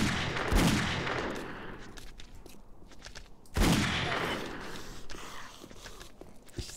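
Gunfire in the video game 7 Days to Die, Alpha 14, fighting feral zombies: two loud, sharp bursts of shots, each ringing out and slowly decaying, with scattered smaller impacts and footsteps between them.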